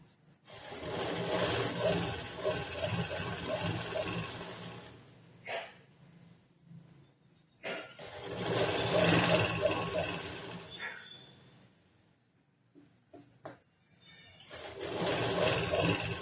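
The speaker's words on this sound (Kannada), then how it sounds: "ಫಸ್ಟ್ ಒಂದು ಹೊಲಿಗೆ ಹಾಕೊಂಡ್ಬಿಡ್ತೀನಿ" Sewing machine stitching a puff sleeve, running in three sustained bursts of rapid mechanical whirring, with quiet gaps holding faint clicks and handling noises between runs.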